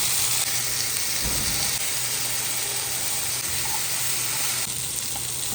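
Steady sizzling and hissing from chicken frying in a hot pan before gravy is added, continuous and fairly close, with faint occasional clinks and no speech.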